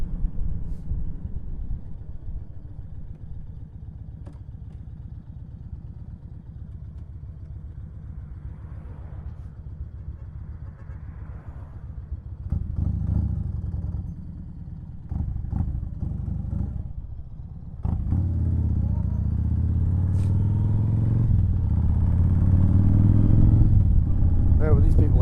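A motorcycle engine and exhaust during a ride, a low rumbling drone under a rider's talking that grows louder and throatier in the second half as the bike pulls harder, with wind noise throughout.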